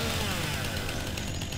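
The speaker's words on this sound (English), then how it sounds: "I can't rotate the chainsaw yet" A chainsaw runs steadily in the video game Farming Simulator 19, a loud, continuous buzzing engine drone with no pauses and no talk.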